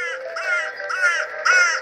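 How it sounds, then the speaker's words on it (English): Crows caw repeatedly in the FNaF World video game, three loud harsh calls in steady rhythm, close and alone with no talk. "these crows are annoying as crap"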